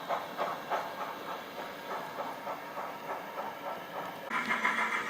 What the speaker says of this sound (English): 64203 now departs with the pickup goods onto its next stop at Gilderson